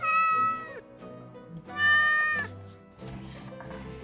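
Two drawn-out cat meows, close and fairly loud, the second rising then falling, with a softer rustling noise at the end.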